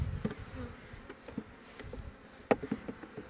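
Honeybees buzz close by at a beehive, a short stretch of humming wings broken by quick ticks and a sharp knock near the middle.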